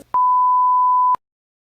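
Phone keypad beep after pressing 1: a single loud, steady electronic tone lasting about one second, heard alone and followed by silence.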